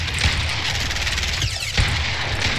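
Video game gunfire in Fortnite: loud, rapid, dense bursts of shots that continue almost without a break, with a short lull partway through and no voices heard.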